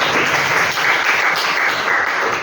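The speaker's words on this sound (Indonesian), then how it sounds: "Tepuk tangan lagi." A class of students applauding together, a steady burst of clapping that holds evenly before easing off at the end.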